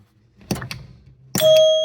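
Chimes ring on a Sinbad pinball machine during repair: two separate bright, sustained strikes about a second apart, the second louder and ringing on with long tonal decay, alone without talk.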